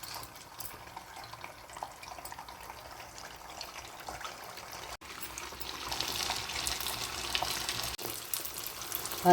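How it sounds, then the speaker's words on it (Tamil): A flattened dough snack fries in hot oil with a low bubbling hiss that swells louder about halfway through, then keeps up a steady sizzle, close and with no talk. "இதை இப்போ நம்ம அந்த எண்ணெயில் போட்டு வேக வச்சுக்கலாம்"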